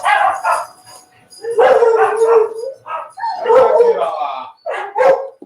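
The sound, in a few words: dogs barking at someone at the door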